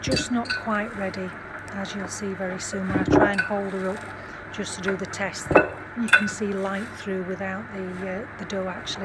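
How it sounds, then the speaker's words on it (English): Dishes and cutlery clink sporadically in the background as tea is made, while a person talks steadily over them, with a couple of sharper knocks standing out. "excuse the background noise because I'm in the process of making the tea"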